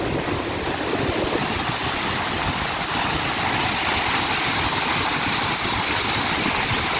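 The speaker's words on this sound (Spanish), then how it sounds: "¿Sí logran escuchar el sonido que da la cascada?" Steady roaring rush of a waterfall at a well-known cascade in the Mixteca region, a loud continuous broadband wash of falling water with low rumble, constant throughout with no voices.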